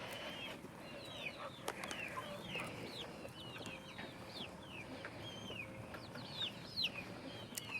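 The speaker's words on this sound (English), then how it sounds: "Oh, the chickens are going to eat some lettuce." Backyard chickens clucking steadily while being fed lettuce, with chirping birds and rustling around them; the clucks are close and continuous, rising in short bursts, with no talk.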